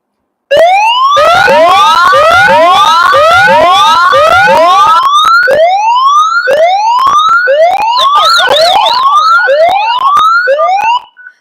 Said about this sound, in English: I'm going to long press the SOS button and make the SOS alarm on.